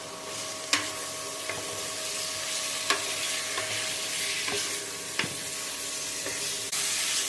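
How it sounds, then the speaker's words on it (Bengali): Washed mutton pieces stir-fried in a pan, giving a steady soft sizzle broken by sharp clinks of a spatula scraping metal every second or two; close and fairly quiet, no talking. "খাসির মাংসগুলোকে আমি ধুয়ে রেখেছিলাম সেগুলোকে ভালো করে আমি কষতে থাকবো"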